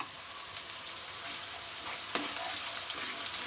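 Ginger paste and garlic paste fry in a pan for a beef keema and bitter gourd dish, making a constant close sizzle with a few faint stirring scrapes near the end.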